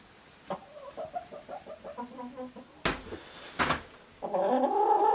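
Hens clucking inside a farm coop, a series of short close clucks and chatter followed by two bursts of wing flapping or scratching and a louder, sustained squawking chorus at the end.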